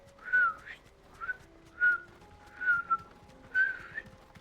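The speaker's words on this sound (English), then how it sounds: "Can I whistle like that?" A person whistles a few short, faint, breathy notes one after another, slightly uneven and tentative, with no speech, while playing Final Fantasy XVI.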